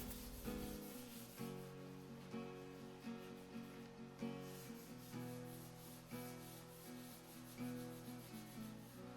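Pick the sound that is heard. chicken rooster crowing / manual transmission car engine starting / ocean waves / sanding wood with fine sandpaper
sanding wood with fine sandpaper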